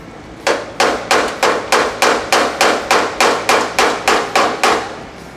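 A hammer strikes metal held against a dolly while prepping a C10 truck body for polish, about fourteen sharp, evenly spaced ringing blows in steady rhythm, close and loud, with no talking.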